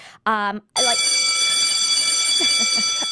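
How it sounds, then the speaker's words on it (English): A loud, sustained electronic buzzer blares on a web talk show, cutting in abruptly after a short voiced burst and holding steady to the end while faint talk continues underneath. "So we're overriding the buzzer on this one."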